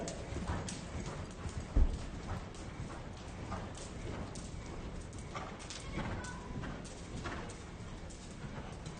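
Horses walking in a riding clinic arena, hooves clip-clopping in a steady, even rhythm at moderate distance, with faint background noise and no clear voices.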